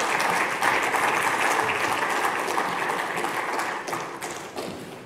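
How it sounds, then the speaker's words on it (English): An audience at a cooperative congress on community energy applauds a panel with steady, dense clapping that holds strong throughout before gradually easing off near the end. "Can we have a round of applause for our panel?"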